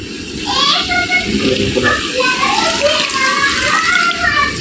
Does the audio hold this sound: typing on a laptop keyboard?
no